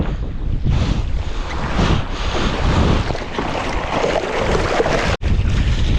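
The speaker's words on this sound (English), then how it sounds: "it's super gusty in here" Strong, gusty wind roars across the microphone during a foil kite surfing session on water, a loud, broadband rush that surges and eases almost continuously, with a brief dropout near the end.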